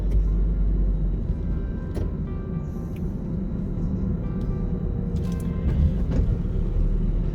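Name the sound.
car interior while driving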